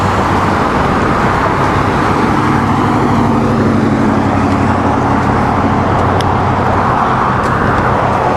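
A car fuelled by natural gas passes by on a roadway, a steady broadband motor and road rumble filling the whole stretch with no clear peak, fairly loud and continuous against background traffic noise.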